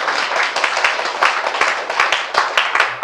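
A Korean audience at a health seminar applauds for a doctor, loud, dense clapping from many hands close by, steady and continuous with rhythmic accents throughout.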